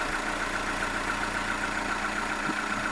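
A first-generation 80 hp Volkswagen Golf engine idles steadily after its accessory belts and tensioner pulley have been replaced, a smooth continuous hum held at an even level throughout with no knocks or irregular beats.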